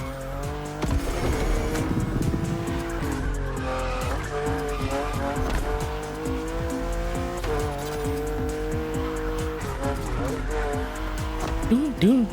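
A Chevy SS in the racing game The Crew Motorfest drives hard, its engine droning steadily while tires squeal and skid through corners, loud and close, with someone talking over it.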